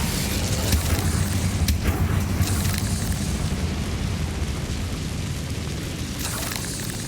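Incendio fire spell cast in Hogwarts Legacy, a loud rumbling whoosh of flame and booming burst that fills the whole stretch, with a roaring fiery texture that fades gradually.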